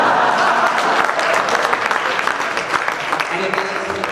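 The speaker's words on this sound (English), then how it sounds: "And everybody claps" A large audience at a Prasanthi talk claps loudly and steadily, a dense wash of applause that eases slightly toward the end, with some faint voices underneath.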